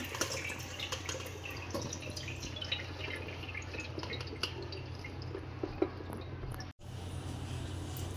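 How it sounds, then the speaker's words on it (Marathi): Water released overnight from salted, turmeric-coated raw mango pieces drains and drips away while making a traditional pickle, a soft trickle with small squishy sounds, fairly quiet, no voices. "आता आपण पाणी सगळं गाळून घेऊया"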